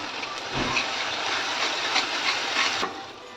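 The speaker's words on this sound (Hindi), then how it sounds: "ये हमारा जो फ्राइड अनियन का पेस्ट है वो डालकर भी अब हम इसे फ्राई कर लेंगे अच्छे से" Fried onion paste and tomato masala for rajma sizzle in a pan over low-medium gas, giving a steady, fairly loud hiss of frying that runs unbroken for a few seconds before easing off at the end.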